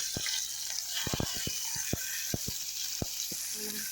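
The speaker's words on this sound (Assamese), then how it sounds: "আমি মাছত অকল নিমখ লৈ আমি মাছখিনি নিমখেৰে ভাজিম মাছখিনি" Small fish fry in hot oil with salt, a steady bright sizzle with sharp crackling pops and spits scattered irregularly, close and alone without talk.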